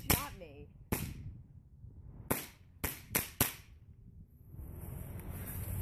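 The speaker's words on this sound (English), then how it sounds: "Mariana bought this new BB gun" A new BB gun fires outdoors in a series of sharp, snapping shots: two quick ones, then a cluster of four close together, with faint voices in the background between them.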